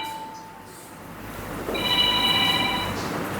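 A mobile phone ringtone chimes in a room during a spiritual discourse, a steady electronic melodic ring that grows louder partway through over faint background hum.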